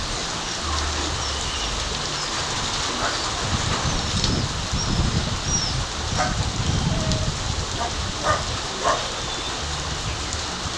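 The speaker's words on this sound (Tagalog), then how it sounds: "E pag lumakas yung ipo-ipo ulit." Wind and heavy rain from a typhoon whirlwind in Caloocan, Philippines, make a loud, steady roaring wash with gusty swells and a few brief knocks, with no talk.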